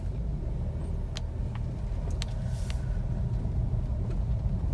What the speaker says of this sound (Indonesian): Sekarang kita coba tes berkendara.